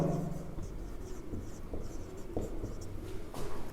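Pen or chalk writing out notes during a computer networking lesson, a steady scratching with small strokes and taps running throughout, fairly quiet in a room.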